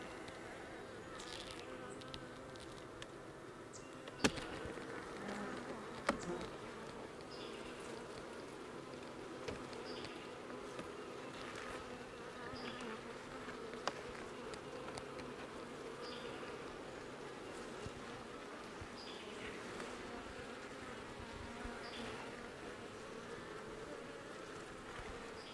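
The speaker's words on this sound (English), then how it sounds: "the bees are not real happy with the weather the way it is." Many honeybees hum and buzz continuously close by at a hive, a dense droning swarm with occasional faint clicks and knocks in the background.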